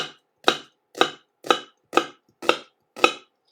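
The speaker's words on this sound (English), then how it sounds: "Let's chop our onion in half." A knife chops through an onion on a cutting board for a vegan black-eyed pea stew, seven crisp, evenly spaced cuts about half a second apart, close and clear with nothing else heard.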